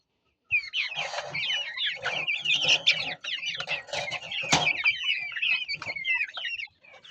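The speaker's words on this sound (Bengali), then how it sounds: "পেছনের মুরগিগুলো সবগুলি খাঁচা থেকে ছেড়ে দিয়েছি" Free-range desi chickens clucking and cackling steadily after release from their cages into the sun, several birds close by with overlapping calls and faint chirps throughout.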